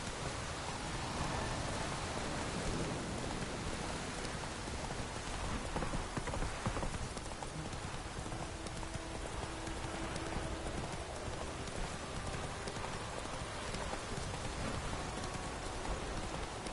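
Hooves of the horse Roach clopping in the rain in The Witcher III, a dense wash of rainfall with soft rhythmic hoofbeats running underneath throughout, steady and fairly quiet.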